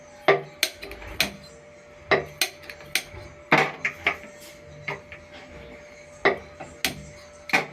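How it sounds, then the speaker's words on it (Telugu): A cooking pot is set down on a stove, making a series of sharp metallic clanks and knocks at uneven intervals, close and fairly loud over a faint steady hum. "గిన్నె పొయ్యి మీద పెడుతున్నానండి."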